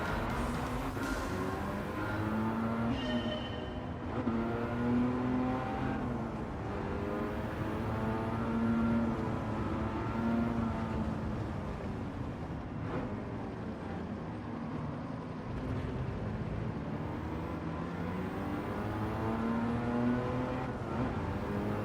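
A Mazda MX-5 Miata engine in the racing game Gran Turismo 7 drones on steadily, its pitch rising and falling as the car accelerates and eases off, with no talking.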